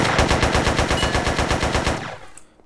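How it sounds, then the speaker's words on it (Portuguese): Rapid automatic gunfire from a shooter video game, a loud sustained burst of evenly spaced shots lasting about two seconds before cutting off into a brief fading tail, with no voices. "eu tô tocando bala mesmo porque eu não me importo agora"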